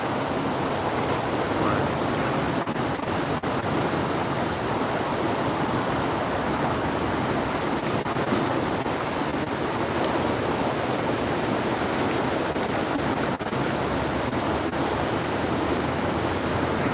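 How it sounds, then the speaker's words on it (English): Ocean waves wash steadily against the shore in a constant, dense roar of surf with no pauses, broad and fairly loud, with no voices present. "it's like the waves are hitting, and it sounds like something fell"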